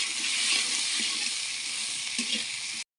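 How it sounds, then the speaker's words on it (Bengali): Ridge gourd sizzling and frying in hot oil with salt, turmeric and green chili, a steady loud crackling hiss with a few stirring scrapes, close up, cutting off abruptly at the end. "এবার একটু কষিয়ে নেব"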